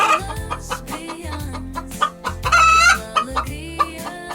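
A hen clucks loudly and continuously in busy, rhythmic bursts, rising into a higher squawking call midway, with farmyard fowl sounds and no talking.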